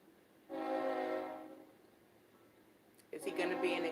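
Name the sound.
passing train blowing its horn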